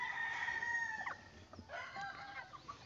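Free-range farm chickens clucking, with a rooster crowing partway through, at moderate distance in open outdoor pasture.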